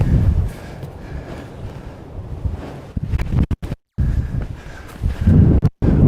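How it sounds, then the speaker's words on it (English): Gusty wind blows across an open disc golf course, rumbling loudly into the microphone in uneven buffets with a couple of abrupt cut-outs, rising and fading throughout. "The wind."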